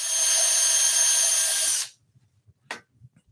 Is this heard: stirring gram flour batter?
no